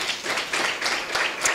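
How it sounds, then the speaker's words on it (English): Applause from the audience at a live International Day of the Girl Child event, a steady patter of clapping that holds moderately loud through the whole short moment. "Ladies and gentlemen, please a round of applause to Maria Stops."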